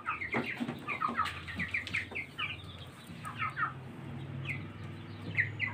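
Young chicks, two-day-old Fayoumi and local Baladi breeds, cluck and peep in a busy overlapping chorus of short calls, close and lively throughout.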